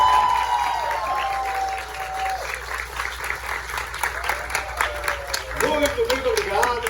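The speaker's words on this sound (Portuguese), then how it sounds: "Podem aplaudir que este conto termina agora." Audience applause breaks out after a storytelling performance, a dense, steady wash of many hands clapping close by for several seconds, with voices mixed in.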